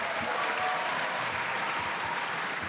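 Steady, dense clapping from a large audience at a speedcubing world championship in the Melbourne Convention and Exhibition Centre, continuous throughout without voices over it.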